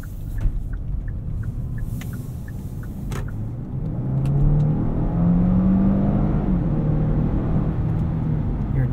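A 2018 Genesis G80 3.3T Sport with its 3.3-liter twin-turbo V6 accelerates from inside the cabin, a low engine rumble swelling into a steady rising drone as the revs climb through quick gear shifts.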